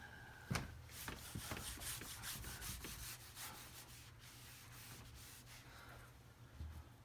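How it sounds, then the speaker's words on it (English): Eraser rubbed against a classroom board, faint scrubbing and swishing strokes with a soft knock near the start, quiet and continuous, with no speech. "So let me erase up here and finish this."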